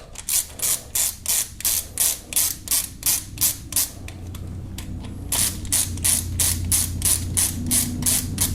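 Socket ratchet tightening timing chain bolts on a Kia Optima engine: a steady series of crisp, close clicking strokes, briefly broken by a pause, then a quicker run of ratcheting clicks over a faint mechanical hum.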